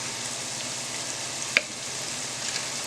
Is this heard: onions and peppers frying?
yes